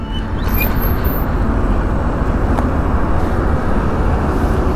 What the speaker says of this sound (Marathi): गाडी आय थिंक होंडाची गाडी आहे